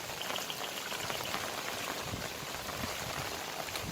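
Heavy monsoon rain pouring steadily on a hill station, a dense, even hiss of rainfall with scattered drops striking nearby surfaces, continuous and no one speaking.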